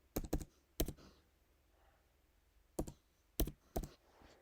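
Computer keyboard keys being tapped to enter an MFA code, two short clusters of crisp, close clicks separated by a quiet pause, with no talking.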